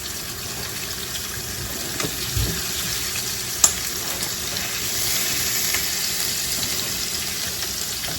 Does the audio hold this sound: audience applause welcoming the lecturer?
no